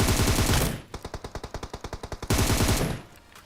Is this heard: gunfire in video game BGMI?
yes